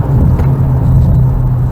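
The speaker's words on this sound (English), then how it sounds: "Shifting, downshifting." A Hyundai Elantra N-line in manual mode shifts and downshifts while being driven hard into a curve, its engine a loud, steady low drone heard from inside the car.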